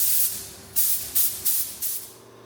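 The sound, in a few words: spray gun spraying primer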